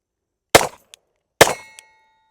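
Two sharp, loud shots from a Glock 23C Gen 4 pistol in .40 fired at a steel target, each followed by a brief metallic ping of the round striking steel, spaced under a second apart.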